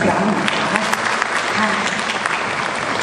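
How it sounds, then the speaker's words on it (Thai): A crowd at a Thai press conference for a luk thung country-music concert gives a songwriter a dense, steady round of applause, loud and continuous throughout, with a few voices faintly mixed in. "ขอเสียงปรบมือให้กับท่านอาจารย์อีกสักครั้ง"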